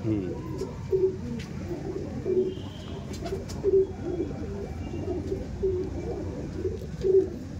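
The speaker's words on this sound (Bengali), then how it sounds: "এটা ছিল নর পায়রা" Domestic pigeons coo repeatedly as they are handled, a male among them, soft rounded calls recurring roughly every one to two seconds over a steady low background rumble.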